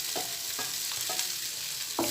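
Fried potatoes and vegetables sizzle steadily in a pan while a utensil stirs them with a few scraping strokes, loud and close, with no talking.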